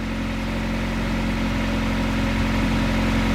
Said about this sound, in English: I'm gonna leave the car running because I'm still bleeding it